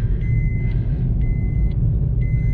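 A Suzuki Ignis 4-cylinder engine hums as a steady, loud low rumble from inside the moving car, with a soft repeating electronic chime pulsing three times over it.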